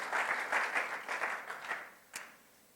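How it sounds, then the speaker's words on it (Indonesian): A church congregation applauds during a Sunday worship service with a dense patter of many hands, loud at first, then thinning and fading, with one last sharp clap near the end. "Tepuk tangan yang panjang bagi Tuhan Yesus."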